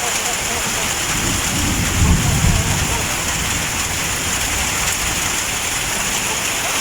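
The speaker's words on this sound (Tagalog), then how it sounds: "Grabe ang lakas ng ulan" Heavy rain pours down steadily on a leaking corrugated metal roof, a dense hiss of water filling the space, with a brief low rumble partway through.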